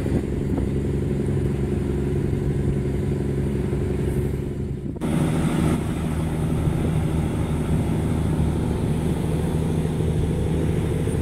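A motorcycle, the TFA 471, runs continuously with a steady engine drone and some mechanical clatter, fairly loud and close, with a sharp shift in tone partway through and no talking.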